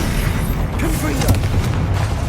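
A booming blast from the Confringo fire spell in the Hogwarts Legacy video game, a heavy explosive burst mixed with game effects and a voice shouting over it.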